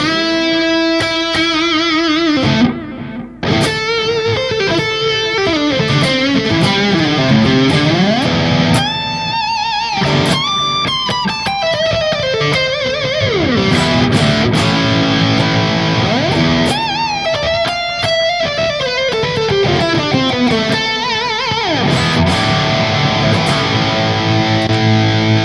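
An electric guitar solo played through an all-Donner pedal rig with delay, sustained melodic lines and bends ringing with echo repeats, loud and continuous with no talking.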